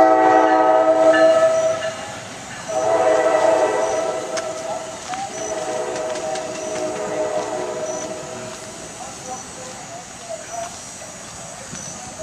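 An NJ Transit passenger train rumbles past at Bradley Beach, New Jersey, with a loud, sustained horn blast at the start and a second blast a few seconds later, wheels clattering as it fades slightly.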